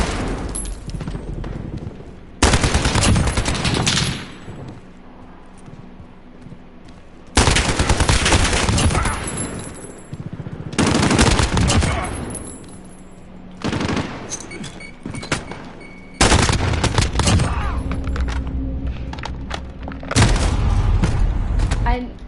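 Gunfire in a Call of Duty video game comes as repeated loud bursts of rapid shots with short quieter gaps between them.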